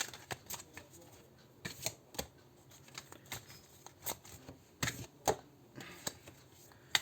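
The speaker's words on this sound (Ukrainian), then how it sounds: "Карти сьогодні просто летять з рук." Cards are shuffled and riffled in quick, crisp bursts, close and fairly quiet, with short pauses between flurries.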